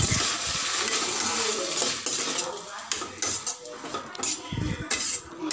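Cabbage and carrot being stir-fried in oil in a pan, with continuous close scraping, clinking utensil strokes and a light sizzle underneath, fairly steady throughout.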